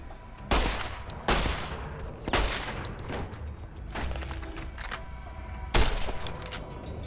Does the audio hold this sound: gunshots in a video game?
yes